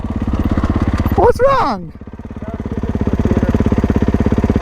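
A 2024 Kawasaki KX450 dirt bike engine idles close by with a steady, fast pulsing rhythm that holds throughout, with a brief spoken question over it.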